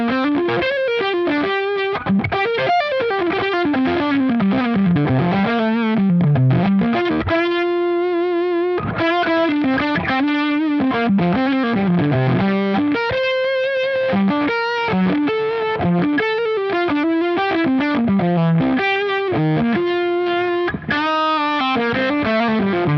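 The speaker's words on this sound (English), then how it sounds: "Quite a dark fuzz." An electric guitar played through a dark Hartwood fuzz pedal rings out with thick, saturated sustained notes and sliding phrases, loud and continuous with brief pauses between runs.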